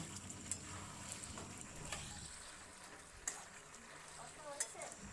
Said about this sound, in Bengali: ঢাকনা তুলে আবারও নাড়াচাড়া করে নেব